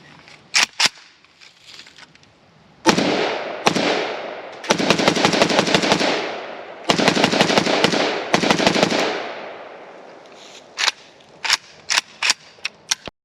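An Arsenal SAM5 AK rifle from Bulgaria fitted with a muzzle brake fires outdoors. Sharp single shots and several rapid strings ring out, loud and close, each followed by echoing decay, and scattered single shots close out the sequence.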